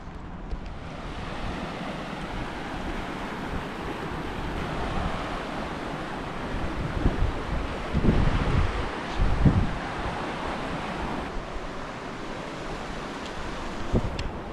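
Actively flowing water at Capitol Reef in the desert, a steady broadband rush like a stream or small cascade running continuously and fairly close, with a few brief louder splashes and some wind noise on the microphone.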